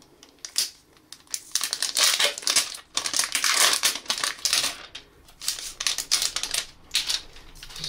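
Protective film being peeled off a Nokia 6.1 Plus phone, giving bursts of crisp crinkling and crackling with small ticks, close and fairly loud, in uneven rhythm.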